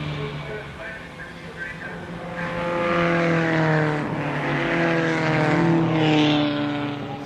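Production race cars from a 1970 Australian series race at Warwick Farm, including Holden Monaro GTS 350s, passing with loud, rising and falling engine drone and a clear pitch sweep as they go by.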